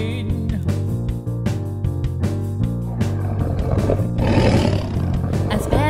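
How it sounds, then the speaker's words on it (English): A bear's roar in an animated children's story, a growling roar sounding over bright, rhythmic background music with steady beats, rising into a louder, noisier burst near the end. "As Bear stormed back inside the cave, he turned and roared at sheep"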